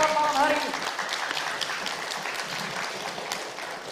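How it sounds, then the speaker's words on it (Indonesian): Applause from the audience at a Magelang 2020 mayoral candidates' public debate, a steady wash of clapping that starts under a brief voice and then carries on alone at moderate loudness. "Tepuk tangan yang meriah untuk para pasangan calon malam hari ini"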